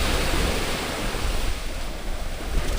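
Strong ocean waves crash steadily on a rocky beach at San Antonio, Zambales, a continuous loud roar of surf churning with wind noise throughout and no voices.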